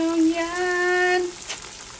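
Green tomato slices fry in a pan with a steady, close sizzle, partly covered at first by a hummed tone from a voice that fades after about a second.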